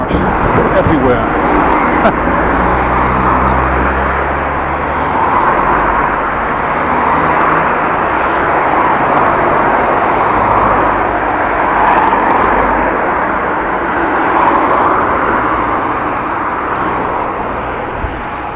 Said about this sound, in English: Well, that was a lot of cars passing.